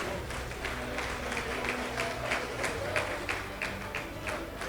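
Applause from a seated audience at a unity luncheon honouring a teacher with 43 years of service, heard as a distant, steady wash of clapping with faint crowd murmur and no voices over it.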